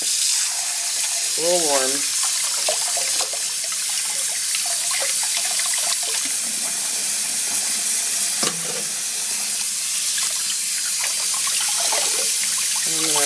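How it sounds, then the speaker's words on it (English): Tea-dyed Aida cross-stitch cloth is rinsed under warm running tap water in a sink, giving a steady hiss and splash that continues throughout, with someone speaking briefly over it. "I'm going to take it out and rinse it"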